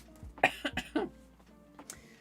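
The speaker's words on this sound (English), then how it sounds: "Sorry about the coughing." A few harsh coughs in quick succession, close and fairly quiet, followed by a pause and a softer throat sound.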